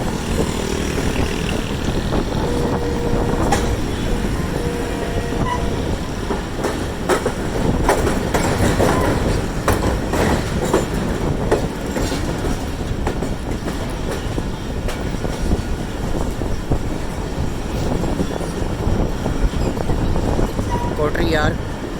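The Rehman Baba train rolls on past Hyderabad toward Karachi in Pakistan, giving a loud, sustained rumble with rhythmic rail clatter and occasional sharper knocks from the carriage throughout.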